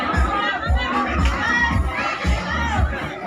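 A live audience at a showdown contest shouts and cheers loudly in rhythmic bursts, a dense, close crowd roar with children's voices standing out.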